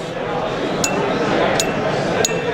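Coins clinking against a drinking glass during a magic act, three sharp bright pings spaced roughly evenly apart over a background of low room noise.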